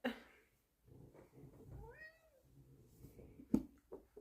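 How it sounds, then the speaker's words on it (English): Indoor house cat giving a single drawn-out meow with a rising then falling pitch, close and moderately loud, with faint household sounds and a sharp knock around it. "I think the cat wants to go to bed."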